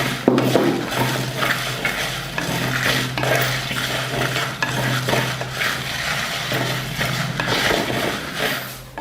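Coriander seeds with cumin, fennel, dried red chillies, peppercorns and cardamom dry-roasting in a hot pan, stirred steadily with a constant rustling, scraping sizzle, close and loud throughout.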